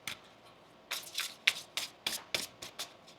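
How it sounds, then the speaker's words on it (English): A deck of tarot cards is shuffled close by in a quiet room, about eight quick, soft riffling bursts following one another with short pauses between them. "One more shuffle here."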